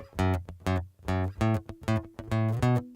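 Acoustic-style guitar playing a twangy, unmuted bass line for a loop, separate plucked low notes ringing with bright overtones in a bouncy rhythm, quiet and close.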